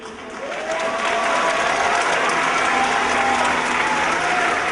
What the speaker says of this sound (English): everybody's going to give us a ginormous round of applause.